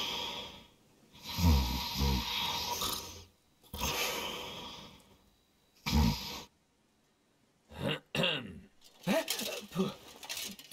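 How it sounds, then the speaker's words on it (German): Wounded man snoring in The Witcher 3: Wild Hunt, heard as several loud, rough, breathy snorts in bursts with pauses between them, close and clear. "Schnarcht."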